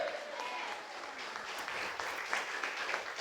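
A church congregation applauds at a Hindi sermon, a dense and continuous wash of clapping that holds steady and fairly loud throughout, with faint voices mixed in.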